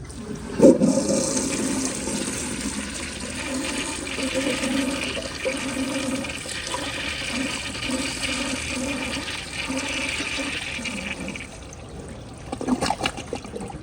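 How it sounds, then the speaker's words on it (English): A 2001 Kohler Tyrrell service sink on a mid-tank flushes with a siphon jet, a rushing surge of water that swells and churns for several seconds before draining down to trickles and a few gurgles. "Let's give it a flush with the plug siphon jet."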